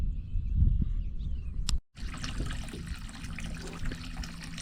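Water pours from a solar-powered pump pipe, fitted with a linear current booster, into a tank in a steady close trickle and gush, briefly cut off near the two-second mark before the flow resumes.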